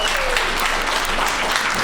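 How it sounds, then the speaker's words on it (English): Loud, dense audience applause at a startup accelerator's final presentations night, continuous clapping from a crowd filling the whole moment. "Let's hear it for Mike."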